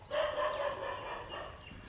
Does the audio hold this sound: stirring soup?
no